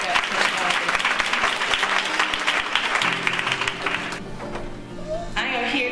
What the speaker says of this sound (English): If you would give her an applause when she steps to the podium.